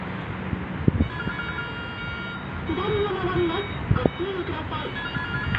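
Repeated tonal beeps from a reversing vehicle sound under engine rumble and background chatter, moderately loud, with a few knocks mixed in.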